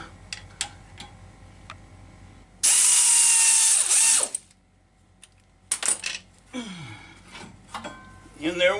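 Pry bars lever against the pistons of a brake caliper on a classic Mercedes-Benz, giving close metallic clicks and scrapes, one long harsh grinding burst, then more clinks and creaks.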